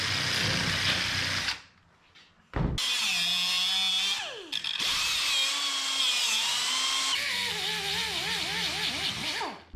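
Power tool cutting out rusted metal on a 1961 Parkwood wagon, a loud continuous grinding whine with shifting pitch that stops briefly twice, then resumes with a warbling, wavering tone.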